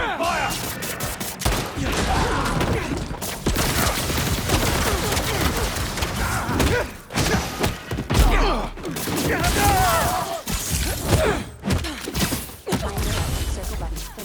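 Heavy, sustained gunfire and rapid bursts in the video game Marvel's Spider-Man 2, dense and loud throughout with thuds and mechanical clatter, briefly dipping before resuming.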